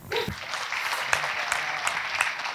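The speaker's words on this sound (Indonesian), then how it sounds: "Tepuk tangan dong." Applause from an audience at an Indonesian speaking event, a short burst of dense clapping with a few sharper individual claps standing out.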